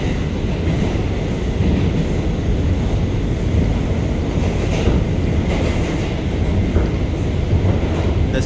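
NYC subway A train riding the IND 8th Avenue Line through Manhattan, a loud continuous rumble and roar of wheels on rails heard from inside the car, with steady rattling throughout.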